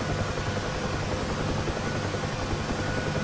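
A UH-1H Huey helicopter lifting off into a hover in the DCS flight simulator: a dense, steady rotor and turbine roar, loud and unbroken, with no voices.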